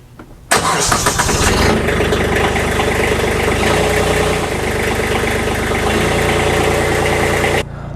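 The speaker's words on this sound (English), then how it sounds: "We'll let that tractor warm up for a little bit." A tractor engine cranks and catches, then settles into a loud, steady idle close by as it warms up, with a slight shift in tone partway through before cutting off near the end.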